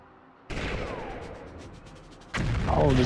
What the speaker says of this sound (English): this dude's throwing grenades at me